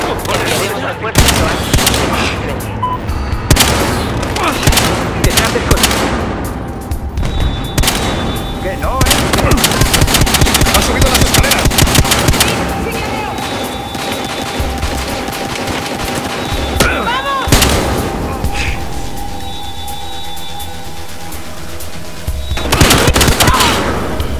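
Rapid bursts of gunfire and automatic weapon fire from Battlefield Hardline, dense and continuous with occasional heavier booms throughout.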